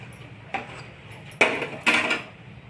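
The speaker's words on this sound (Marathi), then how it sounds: "शेंगदाणे भाजून घेणे, खलबत्त्यात जाडसर वाटून घेणे" Roasted peanuts are pounded coarsely in a mortar and pestle. Three separate dull thuds land at irregular gaps, the later two louder and more ringing, over a quiet background.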